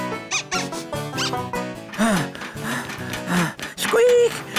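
Cartoon squirrels in Ben and Holly's Little Kingdom squeak repeatedly, the high squeaks voiced by characters and mixed with animated chatter and excited calls throughout.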